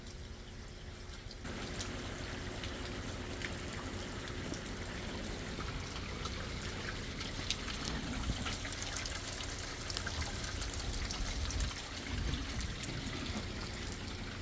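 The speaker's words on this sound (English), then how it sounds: "It just started pouring and I got caught out in it." Heavy rain pouring outdoors on a farm during a storm, a dense continuous wash of falling water with scattered spatters and trickles, fairly close and steady throughout without voices.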